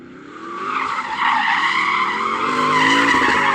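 A Porsche Cayenne Turbo GT SUV does donuts, its tires squealing in a loud sustained wavering screech over the rising roar of the engine, close and continuous.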